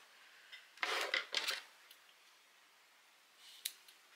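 Scissors snip a small piece of double-sided tape during paper crafting, giving two quick close cuts followed by a faint later snip, all fairly quiet.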